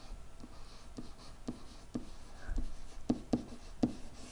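A pen writes on a hand-drawn graph during a math lesson on a parabola: soft, close scratching with a steady run of short, distinct strokes and taps. No talking.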